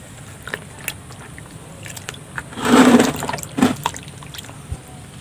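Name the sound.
pouring rice washing water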